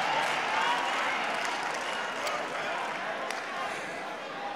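A church congregation applauding, a dense, steady wash of clapping from many hands filling the room, with voices mixed into the crowd noise throughout.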